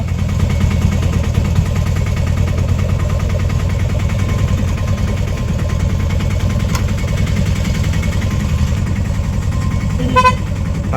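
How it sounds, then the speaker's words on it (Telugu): A vehicle engine idles steadily close by, then a short horn toot sounds near the end. "హార్న్ వినపడంగానే మన వాళ్ళు పరిగెత్తుకుండా వచ్చేవాళ్ళండి"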